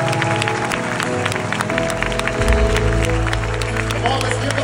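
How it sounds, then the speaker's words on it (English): A church congregation claps in praise at an anniversary service, steady massed clapping over music, with voices mixed in beneath and a deep bass swell partway through. "we will give once again our Lord Jesus Christ a mighty clap of praise"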